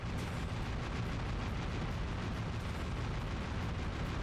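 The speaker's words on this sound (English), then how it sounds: "I needed to use the cannons to bust down the castle" Cannons firing at a castle in the video game Dynasty Warriors 8, a dense continuous roar of booming blasts and rumbling impacts, loud and unbroken throughout.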